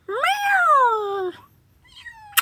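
A tortoiseshell stray cat gives one long, clear meow that rises and then falls, close by, followed by a quieter second call and a short sharp noise at the end.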